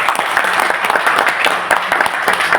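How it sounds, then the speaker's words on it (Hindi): Loud, dense applause fills a hall for two honoured guests at a Trust Bitcoin tour announcement event, steady clapping throughout with no pause. "तो हमारे माननीय मुकेश सर और माही सर के लिए जोरदार ताली बजती है"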